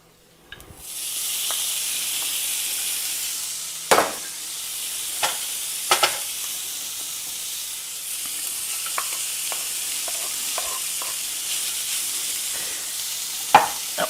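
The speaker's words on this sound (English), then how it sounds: "we're going to cook the bacon, the onion, and the garlic together until it's all nicely browned" Bacon, onion and garlic fry together in their own bacon grease with a steady, broad sizzle that runs for the whole span, broken by a few sharp scrapes and knocks of stirring in the pan.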